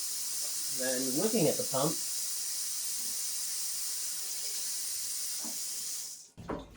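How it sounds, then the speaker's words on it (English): An Aerogarden part is rinsed under a running tap, making a steady, close water hiss that carries on beneath a brief stretch of talk and then cuts off near the end. "Just gonna rinse it out, get the few bits of roots off that are stuck to it."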